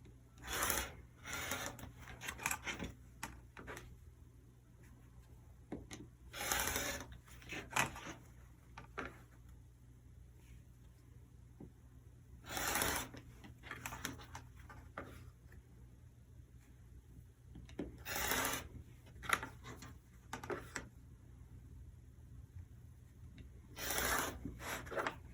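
Rotary cutter slicing quilt fabric strips along a Creative Grids ruler with a 2.5-inch mark, heard as a series of crisp rasping strokes every few seconds over a steady low hum, with quieter rubbing between cuts.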